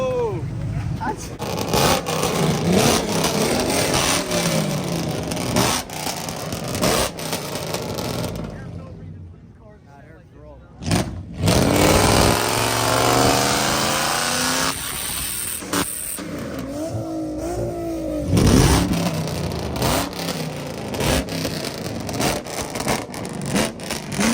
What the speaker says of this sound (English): That BMW sound crazy.